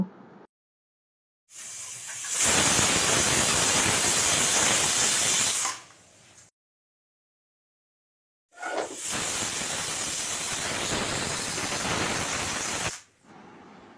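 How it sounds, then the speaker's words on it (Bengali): A pressure cooker cooking sour dal with amra on high heat lets off two long, loud bursts of hissing steam, each lasting several seconds, separated by a short silence and heard close with no voices. "কুকারের ঢাকাটা বন্ধ করে গ্যাসের আঁচটা হাইতে করে দেব আর 2টো সিটি পড়া অবধি অপেক্ষা করব"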